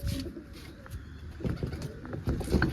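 Soft, low pigeon coos repeat over a murky background hum, close by and fairly quiet.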